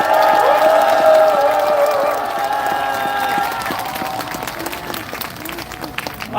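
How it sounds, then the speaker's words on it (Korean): Crowd applause from an older audience at an outdoor political prayer rally in front of the National Assembly, loud and sustained at first, then thinning and fading over several seconds, with scattered voices mixed in. "박수를 한번 쳐주십시오."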